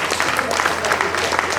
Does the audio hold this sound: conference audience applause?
yes